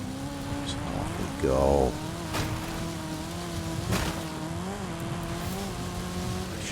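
A Porsche Cayenne driving in a racing video game, its engine humming steadily with a brief surge of revving near the start, while a voice speaks briefly.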